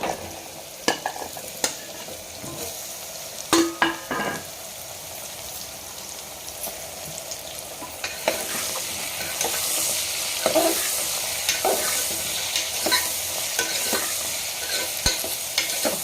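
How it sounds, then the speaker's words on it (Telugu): Bottle gourd pieces frying in oil with masala and turmeric, a loud bubbling sizzle that swells in the second half, broken by clattering stirs and taps of a spoon against the pan. "పసుపు వేసిన తర్వాత వెంటనే ఈ ముక్కలు కూడా వేసుకుందాం సొరకాయ ముక్కలు"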